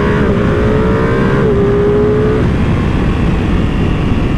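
A 2023 Ducati Panigale V2 Bayliss sport motorcycle engine runs loud and close, its pitch stepping up and holding, then settling into a steady high-revving roar.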